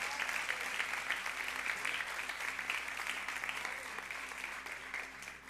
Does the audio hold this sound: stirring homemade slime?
no